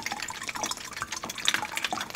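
Coconut water pouring into a container, a short close splashing and trickling stream with small drips, moderately quiet and unbroken.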